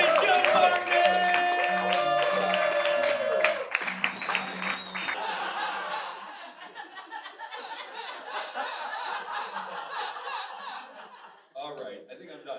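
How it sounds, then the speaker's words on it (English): Live comedy show audience applauding and laughing for a comedian, clapping and chuckling spread through a room after music fades, fairly loud at first then thinning out with scattered claps and chatter. "Guys, get the round of applause going. Come on, get it loud, man!"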